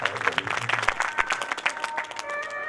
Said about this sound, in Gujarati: એક વાત જોરદાર તાળીથી આપણે રમેશભાઈને કદાચ વધારી લઈ